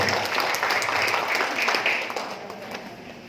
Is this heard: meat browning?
no